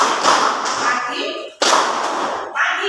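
Students clap the tepuk pagi rhythm together in class, two loud bursts of many overlapping hand claps with sharp attacks and a busy, smeared texture.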